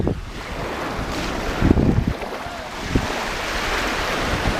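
Ocean waves breaking and rushing up a beach at sunset, a steady roar of surf mixed with gusty wind buffeting the microphone, loud and continuous throughout.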